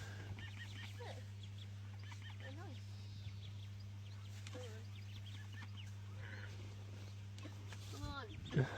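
Ducks quack and cluck inside a fishing bivvy, a string of short calls scattered through the clip with a louder burst near the end, under a steady low hum while people talk.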